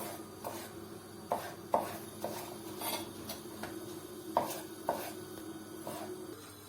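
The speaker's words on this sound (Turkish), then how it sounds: "Patatesleri de şöyle aynı ciğer boyutunda küp şeklinde şöyle doğrayacağız." Potatoes being diced into cubes on a board in a home kitchen, sharp knife knocks landing in an uneven rhythm, a dozen or so taps at moderate distance over a low background hum.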